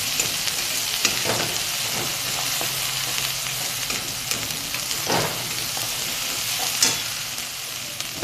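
Eggplant curry being stirred in a hot pan with coriander powder added, a steady close sizzle of frying with scraping stir strokes recurring throughout, no voices.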